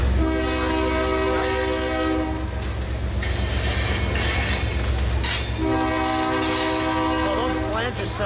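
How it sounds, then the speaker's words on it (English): A Union Pacific freight train with a dead SD40-2 in tow rolls past steadily and loud at close range in Rochelle, Illinois, while its wheel flanges shriek in sustained high squeals over the rumble. "those flanges sound mad"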